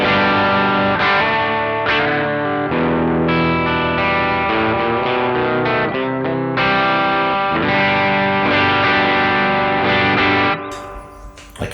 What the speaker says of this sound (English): So starting with a bit of spring reverb, big spring reverb.